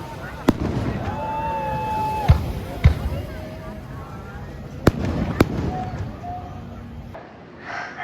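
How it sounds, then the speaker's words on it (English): Christmas fireworks go off around Puerto Vallarta, Mexico: several sharp bangs and thuds at varying distances, scattered irregularly over an outdoor background with faint voices and other ambient sounds. "you'll hear lots of Christmas fireworks in the meantime."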